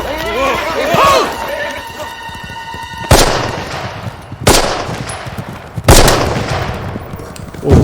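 Battlefield gunfire from a World War II drama near the town of Foy crackles in three loud bursts, with horse whinnies and a wide band of background noise between the shots.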